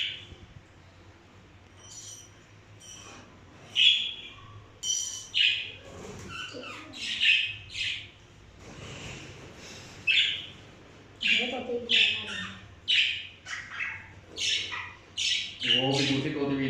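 Parrots squawk while being moved from a small cage into a bigger one, harsh piercing calls coming in repeated close bursts, with a person talking and coaxing them in between.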